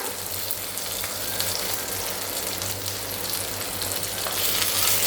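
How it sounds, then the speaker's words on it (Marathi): Roe-filled chimni fish fries in a pan on its second side, giving a continuous close hissing sizzle with small crackles over a low steady hum, loud and unbroken, with nobody speaking. "आता आपण दुसरी साईडसुद्धा पलटी करून घेऊ, ती सुद्धा व्यवस्थित फ्राय करून घेऊया।"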